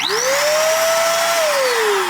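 A Roedix R8 cordless air blower runs steadily on a low setting, a close, continuous whine with a rising then falling pitch and broad airy hiss.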